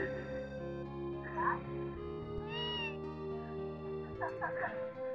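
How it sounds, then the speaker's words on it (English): Game-style cat meows from Tales of Phantasia sound in a few short cries over a steady droning musical background, including a rising-falling wail in the middle and a cluster of mews near the end. "Is it a cat?"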